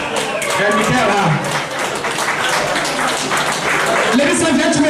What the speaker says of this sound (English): give another applause to Michael, please